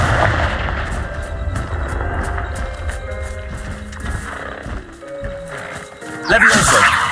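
Confringo spell explosions in Hogwarts Legacy, booming fiery blasts and crackling impacts layered over game music and creature noises, with a sharp loud burst near the end.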